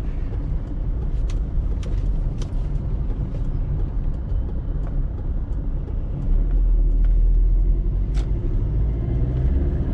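Maruti Suzuki Swift 2010 diesel revving at full throttle, a steady low rumbling engine drone heard from inside the car that swells louder near the end.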